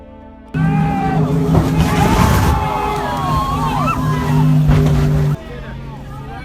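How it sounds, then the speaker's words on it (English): A Superboat International powerboat race during a serious accident: a steady roar of racing boat engines runs loud and close throughout, overlaid with crowd babble and voices, then drops away abruptly near the end. "a serious accident turned the Superboat International race into a heart-stopping event on November 10th"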